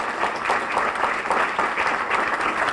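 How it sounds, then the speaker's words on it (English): Audience applause at a conference opening session, a steady dense round of clapping from a crowd held at an even level throughout. "let's give her a round of applause."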